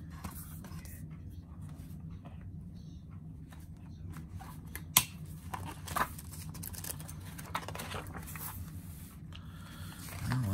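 Quiet rustling and crinkling as a shrink-wrapped IBM software package (Filing Assistant for the IBM 5150) is unwrapped, with soft scattered crackles and a couple of sharper tears over a low steady room hum, no talking.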